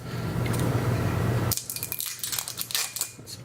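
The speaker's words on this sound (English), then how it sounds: "Nice sound to the plastic as you're opening that one." A Moulis-en-Médoc wine bottle with a plastic stopper is opened. A dull, steady rumble cuts off and is followed by a series of sharp plastic clicks and squeaks, close and distinct, with no talk.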